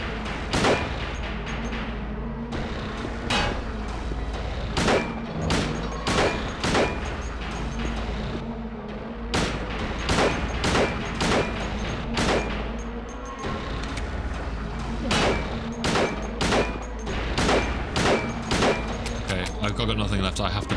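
Repeated gunshots from the Silent Hill 2 video game ring out as a series of sharp, loud blasts spread across the stretch, with a person talking between and over them.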